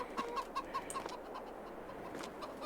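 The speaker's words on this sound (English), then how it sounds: "Let's check on our chickens here." Chickens on a ranch cluck in short repeated calls, fairly quiet and close, with a few brief bird sounds scattered over a low outdoor background.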